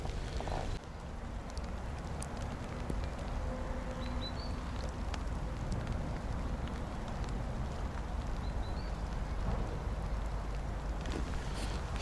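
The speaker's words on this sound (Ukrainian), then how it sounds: "у нас тут пішов невеличкий дощик" Light rain falls outdoors during feeder fishing by a river, a steady close hiss of drops and wind with a few faint chirps and taps, no voices.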